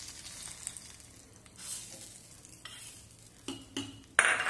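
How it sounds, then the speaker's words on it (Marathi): A hot tadka of mustard seeds and cumin is poured onto a dish, with light clinks and stirring followed by sharp bursts of sizzling near the end, fairly faint and with no talk. "तडका थोडासा गरम आहे तोपर्यंतच आपण याच्यावरती घालायचा आहे"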